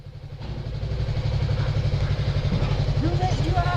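A 300 cc motorcycle engine idles and revs in a steady low throb, loud and close, with the pitch climbing toward the end as it is pushed for a wheelie.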